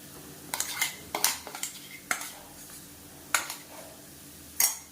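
A spoon scrapes and knocks against a pan while onion and a ground betel leaf and garlic paste are sautéed, giving several sharp metallic clatters spaced irregularly over a quiet background, with no sizzle evident.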